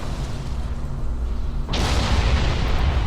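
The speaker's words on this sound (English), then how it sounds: "That's like an explosion in my cell there." A sudden explosion in the video game Star Trek Online bursts in partway through and rumbles on loudly, following a steady low hum with no talking.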